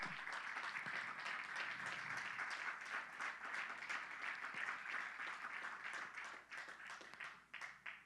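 Church congregation claps loudly in praise to the Lord during a sermon, a sustained crowd applause with dense rapid claps that thins out toward the end.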